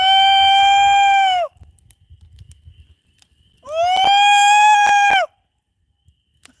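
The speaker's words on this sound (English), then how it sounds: "When they first hear that sound from the loon, the Minnesota bird, the loon," Two long, loud tonal wails from a loon, the Minnesota bird, ring out at night in North American woods, with a quiet pause and faint rustling between them.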